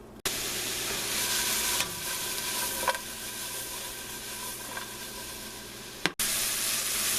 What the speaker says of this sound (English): my onion and mushroom has cooked down just a little bit until the onions are starting to turn translucent